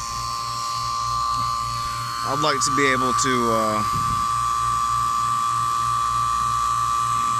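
Vacuum pump running on a Trane HVAC system, a constant droning hum, with someone talking briefly over it partway through.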